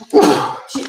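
A single short sneeze at a city commission meeting, a sharp loud burst followed by a brief softer tail, close to the microphone.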